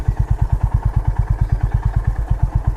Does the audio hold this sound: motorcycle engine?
yes